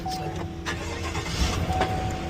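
A Chevrolet Silverado truck engine cranks and catches close by, settling into a steady loud running hum with a slight misfire roughness.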